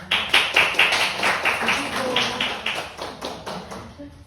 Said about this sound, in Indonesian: Bisa tepuk tangan untuk itu